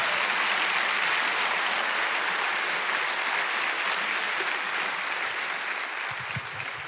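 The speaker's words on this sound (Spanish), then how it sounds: "Dele un aplauso grande al Señor" A church congregation breaks into loud, sustained applause during a sermon, a thick continuous roar of clapping that stays strong and then eases slightly toward the end.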